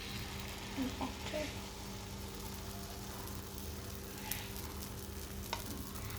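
Dora cake batter poured onto a hot, oil-greased pan, giving a soft, faint sizzle with a few light scraping clicks and no talking.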